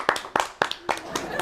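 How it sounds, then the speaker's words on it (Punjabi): Clapping from an audience at a live comedy show, five sharp claps at an even, unhurried pace, close and distinct. "ਹੌਲੀ ਹੌਲੀ ਤਾੜੀ ਮਾਰੋ ਅੰਕਲ"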